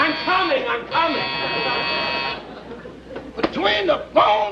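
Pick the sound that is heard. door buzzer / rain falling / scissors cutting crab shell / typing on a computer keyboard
door buzzer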